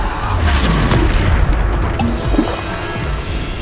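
A Bombarda blasting spell goes off in Hogwarts Legacy during hard-mode combat, heavy booming explosions rolling one into another, loud and close, with a few sharper pops through the rumble.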